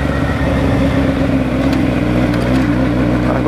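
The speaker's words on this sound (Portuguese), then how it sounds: "Nossa, tá gostoso andar de moto hoje, hein, cara." A motorcycle rolling through traffic, its steady engine drone and road rumble continuous and close throughout, with no voices.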